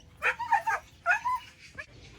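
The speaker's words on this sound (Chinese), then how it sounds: "你们看，这山上拴了好几条狗子，" Several dogs tied up on a hillside beside a tea garden barking and yipping in short bursts, two quick clusters followed by a fainter yelp, fairly close with no talk.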